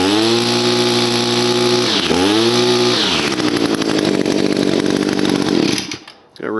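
An Echo SRM 266 string trimmer's small two-stroke engine runs loud and close, revving up and down in a steady buzzing drone before briefly dropping off near the end and picking up again.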